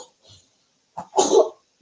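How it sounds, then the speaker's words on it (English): A man coughs in his sleep close by: a faint breath, then a short cough followed by a louder, harsher one. "he's coughing in his sleep"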